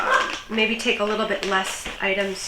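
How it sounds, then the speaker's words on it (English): A dog barks a few times indoors, partly buried under a person talking steadily close to the microphone. "he's barking right now"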